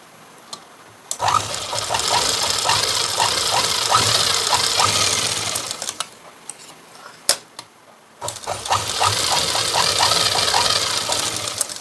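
Sewing machine stitching a blouse, running in two loud bursts of rapid rhythmic needle clatter separated by a quiet pause with a few clicks as the machine stops and restarts.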